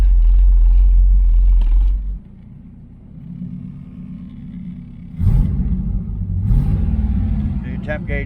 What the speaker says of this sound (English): put it into gear, it won't die, but it's shaking.